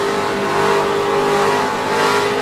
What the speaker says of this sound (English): Did you hear him gas it up when he saw the chance?